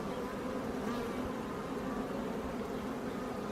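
Honeybees tending a green-marked queen give off a steady, close, dense buzz that holds unbroken at an even level, with no voices.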